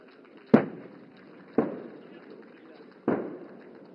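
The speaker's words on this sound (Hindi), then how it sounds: "टारगेट एक्विजिशन करते ही ये गन्स अपने डायरेक्ट फायर द्वारा टारगेट ग्रुप 7 पर दुश्मन के टैंक्स को बर्बाद करेंगी" Three heavy booming shots, spaced about a second apart, from artillery guns firing direct fire at target tanks during the Bharat Shakti military exercise at Pokhran, Rajasthan, each with a sharp onset and a decaying rumble.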